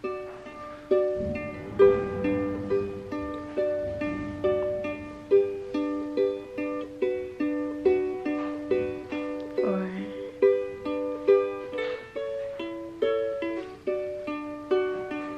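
Ukulele plucked in a steady repeating chord pattern of a song's chorus, bright individual notes ringing with an even rhythm, close and clear, no voices.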